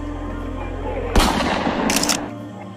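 A sudden loud gunshot crack cuts through a steady low hum, followed by a ringing decay and a second sharp burst, portraying the shooting of Martin Luther King on a Memphis hotel balcony in 1968.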